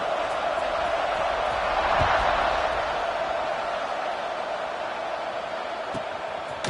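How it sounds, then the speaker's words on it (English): Stadium crowd in College Football 26 rumbling ahead of a kickoff in an SMU versus Louisville game, a sustained broad roar that swells near the start and then settles, with a couple of sharp thuds late. "this crowd now ready to get behind them"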